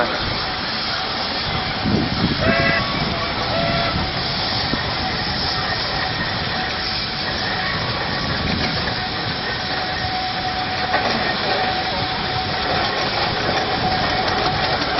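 A steam railway locomotive rumbles steadily along at a steam fair with continuous mechanical noise and hiss, a few louder clanks and faint voices in the background.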